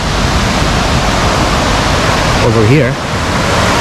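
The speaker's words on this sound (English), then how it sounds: "Another view of the river or a creek." A river or creek in Ramsau, Germany rushes with a steady, dense broadband roar that fills the whole stretch, while a voice speaks briefly over it near the end.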